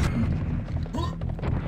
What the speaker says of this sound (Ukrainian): Там ще стріляє паняночка десь. Чую, чую тебе.